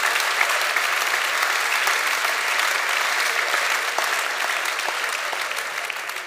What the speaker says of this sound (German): Das war scheinbar dein Applaus